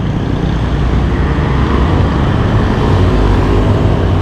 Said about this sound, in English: this is busy MacArthur Highway.